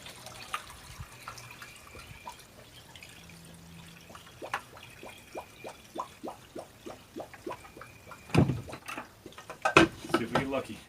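Water flows back into a swimming pool skimmer pipe while the pool is being opened, a faint trickle and gurgle with a run of regular soft pulses, then louder splashy knocks near the end, with a voice heard at times.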